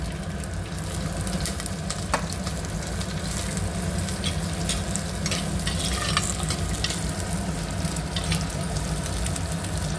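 Green chillies sizzle and crackle in hot oil in a pan while being stirred, a steady close frying hiss with occasional scraping clicks, no voices, while making sorakaya pulusu (bottle gourd stew).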